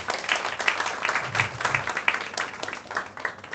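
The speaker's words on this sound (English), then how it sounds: "Please give a big round of applause to yourself." Teachers of a teacher training college applaud in an auditorium during a college week event, a steady, fairly loud crowd clapping that runs without a break throughout.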